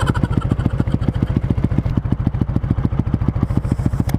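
A motorcycle with an aftermarket Replica Pro exhaust idles nearby with a deep, loud, rhythmic burble from its exhaust, pulsing steadily throughout.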